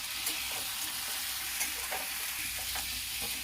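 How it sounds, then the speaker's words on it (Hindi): Onions sizzle steadily in hot oil while being fried for a black chickpea curry, a close, continuous crackle with faint stirring and no talking. "ये थोड़ा और भुनाएगा और मैं इसे 5 मिनट भूनूंगी, तब मसाला डालूंगी।"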